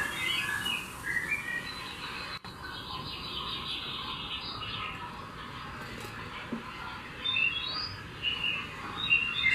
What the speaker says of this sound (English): Got some beautiful bird sounds.